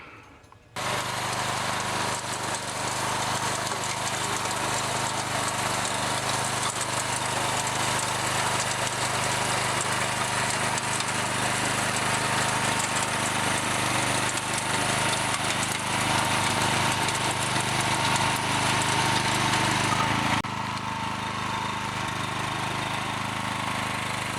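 A Merry Tiller engine runs steadily while tilling, a loud, continuous mid-pitched drone that holds nearly unchanged for over twenty seconds before easing slightly near the end, with no voices.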